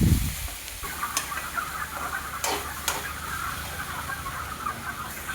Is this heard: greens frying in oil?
yes